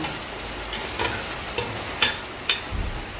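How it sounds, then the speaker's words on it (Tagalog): Onions sautéing with chicken in a pan for chicken cooked in coconut milk, a soft even sizzle broken by a few sharp spatula clicks and scrapes, with no voices. "Ilalagay na rin natin yung sibuyas. Para lumabot na siya."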